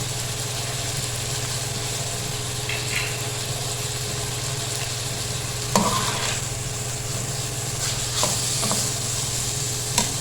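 Chili flakes and dried fenugreek are stirred in a pot of chana pulao, giving a low steady sizzle and hum with a few sharp spoon knocks and scrapes near the end, close up and without speech.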